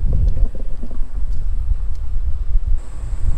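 Steady, blustery wind roaring across the microphone, a continuous low rumble with gusty buffeting and no voices.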